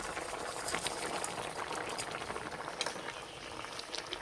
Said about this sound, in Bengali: এই যে ঝোল খুব ভালোভাবে ফুটে গেছে।